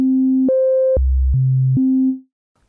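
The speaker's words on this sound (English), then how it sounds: "We've got a sine wave." Cherry Audio Sines software synthesizer sounding a pure sine-based tone that holds steady pitches and jumps up, drops low, then climbs back across a few notes before cutting off cleanly.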